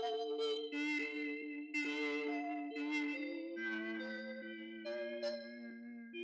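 An arpeggiated synth in Ableton, driven by a chord trigger, plays a run of sustained, harmonically rich notes stacked over a steady low tone, with shimmering attacks at each change, heard alone.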